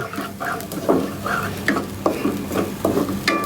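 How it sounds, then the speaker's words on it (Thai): Thai curry paste sizzles and is stir-fried in a hot wok, with repeated scraping strokes of a spatula in an uneven rhythm. "แกงอร่อยอร่อยต้องคั่วพริกแกง"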